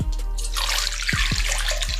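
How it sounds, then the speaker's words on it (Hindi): Water pours steadily into a blender jar for a banana shake, a loud, close, continuous splashing stream with a few low gurgling plops near the end. "सिंपल पानी डालना है इसमें"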